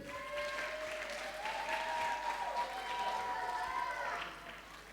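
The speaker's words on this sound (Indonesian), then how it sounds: "tepuk tangan sekali lagi" A church congregation claps together during a worship service, a steady, sustained wash of applause that continues alongside singing and voices before easing off near the end.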